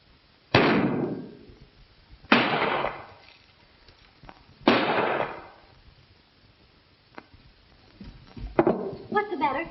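Gunshots in a western movie shootout: three loud, sharp reports a couple of seconds apart, each ringing out with a short echo, followed by fainter clicks and a clatter near the end.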